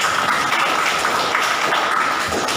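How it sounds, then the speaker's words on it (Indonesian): Classroom applause from students after a classmate answers correctly, a steady dense patter of many hands filling the room throughout, fairly loud and unbroken, with no talk over it. "Oke, beri tepuk tangan."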